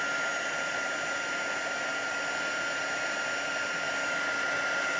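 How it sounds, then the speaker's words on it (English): Heat gun blowing over embossing powder on cardstock, a steady, even whoosh of hot air with a high whine, held constant and close throughout without talk. "You want to turn your heat gun off so that you don't warp your cardstock."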